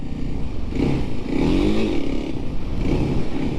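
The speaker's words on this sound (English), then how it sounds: "then the bike revs up like crazy" A dirt bike engine on a muddy trail drones and rises in pitch as it revs, steady and close with clattering, scraping undertones.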